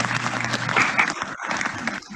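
An audience at a college graduate awards ceremony applauds an award winner, a brief burst of clapping with a voice speaking over part of it, fading toward the end.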